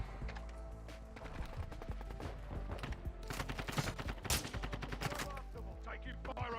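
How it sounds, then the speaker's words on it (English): Rapid gunfire in Call of Duty: Modern Warfare II, bursts of automatic shots crackling continuously with denser volleys midway, heard over a steady low rumble. "Taking fire over here."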